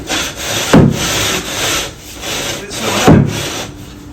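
The edge of a sheet of plasterboard being rubbed back and forth on a hard floor, giving loud, close, gritty scraping strokes in a steady rhythm with a heavier scrape at the start of each pass.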